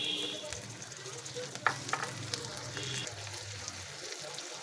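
Tomatoes sizzle as they land in a frying pan of dal and poi greens, a steady frying hiss with light scraping stirs and a few soft clacks of the utensil against the pan.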